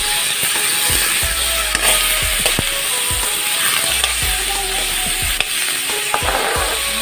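Fatty pork sizzles steadily in a blackened wok, with a spatula scraping and clattering against the metal every second or so at close range.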